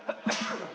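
One short sneeze, quiet and slightly distant, with a sharp burst followed by a brief trailing breath against a background of room noise.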